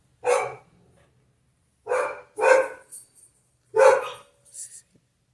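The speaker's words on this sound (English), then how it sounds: "I think my dogs are barking at the thunder now." Dogs bark in three separate bursts of one or two sharp barks each, fairly close in a quiet room, with short silences between.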